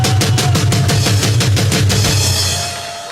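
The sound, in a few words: crowd applause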